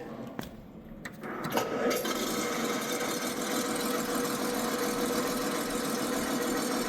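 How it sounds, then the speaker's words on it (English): Preston Tucker's personal car, number 29, with its engine running steadily after a brief start, a continuous loud mid-range drone that holds evenly without pauses. "That was the engine sound."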